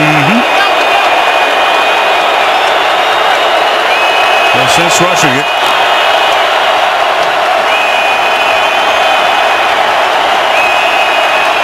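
Stadium crowd at an NFL Giants at Cowboys game, a loud, sustained roar with whistles and shouts of disapproval throughout, under a commentator's voice.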